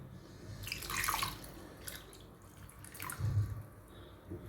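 Water poured and stirred into curd rice to thin it for drinking, with splashing bursts near the start and again near the end, steady trickling in between, close and moderately loud, no talking.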